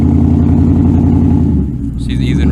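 A 2003 Ford F150 4x4 pickup with a repaired vacuum line problem, climbing a steep hill, its engine droning loud and steady close by before easing off, with a voice briefly heard near the end.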